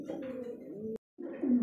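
Pigeons of Lahori, Shocking Beauty and Danish breeds coo softly at close range in two short bursts separated by a brief silence, with no talking.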